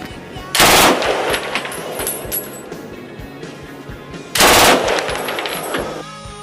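A German WWII machine gun in 7.92x57 mm calibre fires two loud, rapid bursts a few seconds apart, each a dense rattle followed by lingering echo and mechanical clatter.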